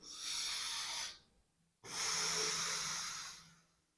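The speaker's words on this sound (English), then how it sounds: "Meaning, you have to do a pranayama." Pranayama breathing exercise: two strong, hissing breaths through the nose, the first about a second long, then a short pause and a longer second breath, close and loud with no talk.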